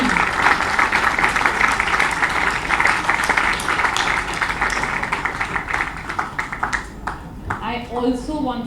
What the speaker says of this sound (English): Let's give a big round of applause to our young novelist Zuni.